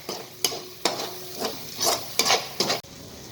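Okra sautéing in red masala for masala bhindi, a steady sizzle broken by repeated clacking, scraping strokes of a spoon stirring the pan, close and fairly loud.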